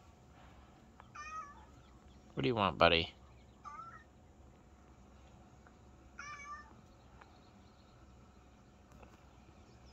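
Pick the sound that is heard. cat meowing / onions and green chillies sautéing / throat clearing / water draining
cat meowing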